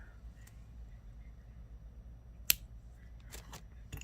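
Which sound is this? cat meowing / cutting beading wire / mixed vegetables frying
cutting beading wire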